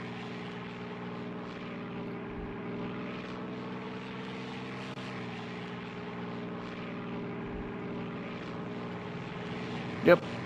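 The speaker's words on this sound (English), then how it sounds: "It looks like the bombers did their first bombing run." Droning propeller engines of bombers in the WWII flight game Air Conflicts Secret Wars, set over the siege of Tobruk, a steady low hum throughout with a brief louder blip near the end.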